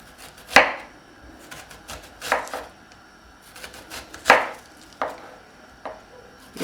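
Onions being chopped with a knife on a board, a handful of loud, uneven, close thuds with brief pauses between strokes, no voices.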